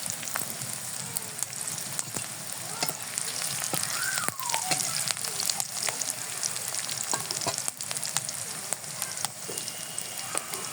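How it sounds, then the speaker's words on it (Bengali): Onions in hot oil with salt, sizzling steadily and close by for the whole stretch, a dense crackling hiss scattered with small sharp pops. "লবণটায় তেল তেলের ভিতর দিলে পেঁয়াজটা নরম হয়ে যায় তাড়াতাড়ি ভাজার সাহায্য করে"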